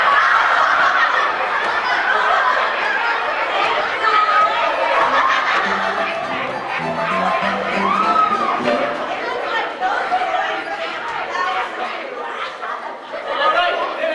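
A crowd of chickens clucks and chatters in a dense, lively flurry of squawks, with people talking over the birds.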